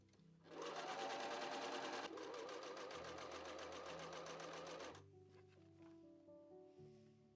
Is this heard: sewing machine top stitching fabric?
yes